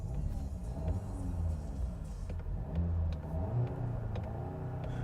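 Engine of a 2022 Volkswagen GTI hot hatch revving with a low growl, steady rumbling swells rising and falling close by, with no talking over it.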